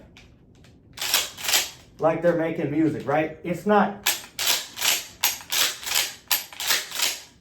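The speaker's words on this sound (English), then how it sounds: "So the pull rack is basically, I pull the trigger, I rack the shotgun." Home defense shotgun dry-fired and racked in a fast pull-and-rack drill, giving a long run of sharp mechanical clacks in a steady rhythm close to the mic, with a voice talking briefly partway through.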